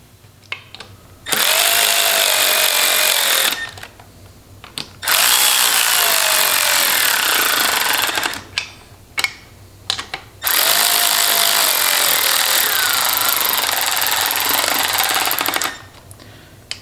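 A power tool drives bolts into a Triumph Spitfire gearbox during reassembly, whirring loudly and close in three long bursts separated by short pauses.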